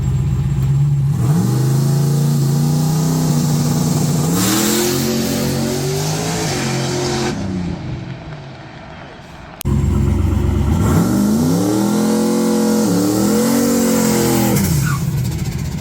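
A street-driven turbo Fox Body drag car makes a track pass, its engine roaring loud and close as it climbs through revs in rising sweeps, with a brief drop and shift before pulling hard again.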